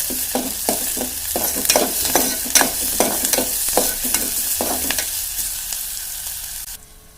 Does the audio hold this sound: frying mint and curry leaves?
yes